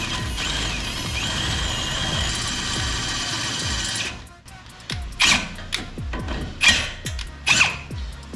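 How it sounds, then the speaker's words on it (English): A drill bit bores through the holes of a steel steering bracket on a Jeep Comanche at low speed. A steady mechanical whir and grind comes first, then breaks into jerky, uneven bursts of cutting and chattering. "Hopefully this one drill bit is enough to eat through all 3 of these holes."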